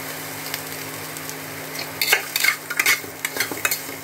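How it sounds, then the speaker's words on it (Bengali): Sweet corn stirred and frying in butter in a pan: a steady soft sizzle with a spatula scraping and clinking against the pan in quick bursts, close and fairly clear. "এবার দিয়ে দেবো কর্নটা। এটা বেশিক্ষণ আর গ্যাসে রাখবো না"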